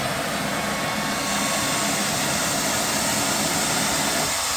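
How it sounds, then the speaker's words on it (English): A hair dryer blows steadily up close onto a freshly thrown clay bottle on the potter's wheel, a constant loud whooshing roar with a faint motor hum and no talking. "I'm going to put the hair dryer up here. This helps with evaporation."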